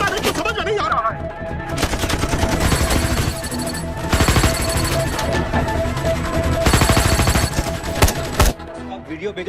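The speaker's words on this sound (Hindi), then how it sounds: "हम तो फायरिंग कर रहे हैं सर।" Loud, dense gunfire in a shootout from the Hindi action film Tiger 3, with rapid machine-gun bursts rattling almost continuously and briefly easing between volleys.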